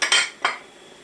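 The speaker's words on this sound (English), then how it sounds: "we're going to add our soy sauce. This is 4 tablespoons of soy sauce" A spoon clinks twice against a dish while soy sauce is added to a shrimp stir-fry, two sharp, close metallic taps a moment apart, then quiet.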